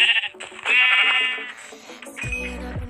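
Sheep in a survival video game bleat loudly and close, several wavering cries in quick succession with no talk over them.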